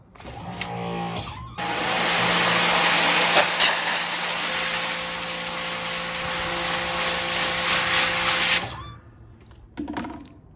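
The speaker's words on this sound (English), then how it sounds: "I went ahead and hooked the pressure washer up." A pressure washer cleans a drum with a loud, steady hissing spray that runs for about seven seconds, then cuts off, with brief clatter before and after.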